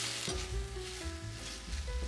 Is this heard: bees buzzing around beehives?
no